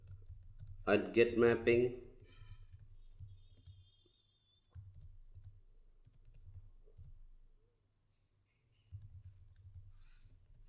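Code being typed on a computer keyboard, soft key taps in short bursts separated by pauses, quiet and close, with someone speaking briefly early on.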